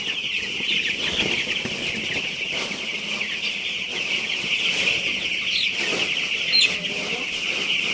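Broiler chickens in a backyard farm brooder cluck and chirp steadily as a dense, continuous flock chatter, moderately close, with a faint voice briefly underneath.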